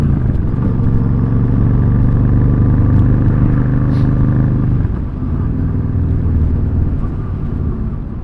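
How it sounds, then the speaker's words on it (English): A Royal Enfield Super Meteor 650 cruiser on a relaxed ride, its engine a loud, steady rumbling drone with wind noise, dropping slightly in pitch midway as the bike eases off, with no talking. "that was my ride on the Royal Enfield Super Meteor 650"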